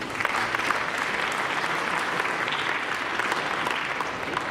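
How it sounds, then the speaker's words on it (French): An audience applauds at a tennis tournament ceremony in northern France, a steady dense clapping throughout with no pauses. "On peut l'applaudir."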